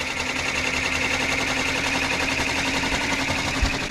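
A sewing machine runs on a cushion being embroidered, a steady fast mechanical whirr with a rapid rattling needle rhythm, close and continuous throughout.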